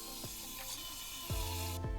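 A ratcheting screwdriver drives screws into a mechanical keyboard's daughter board, giving a few sharp clicking ratchet strokes spaced irregularly, close and clear with no talk.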